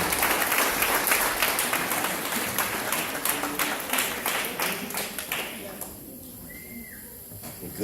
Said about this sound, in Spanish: Dar un aplauso a Cristo Jesús.